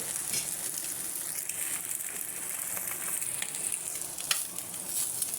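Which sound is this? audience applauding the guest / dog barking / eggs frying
eggs frying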